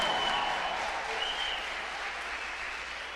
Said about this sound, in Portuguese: Cadê a salva de palmas para Jesus?